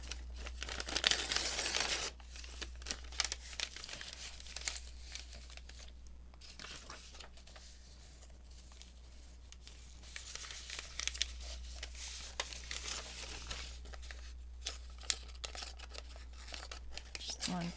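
Sheet of graph paper being torn along its straight edge, with crinkly ripping and paper handling in bursts over about eighteen seconds, close and fairly quiet, with soft speech in between.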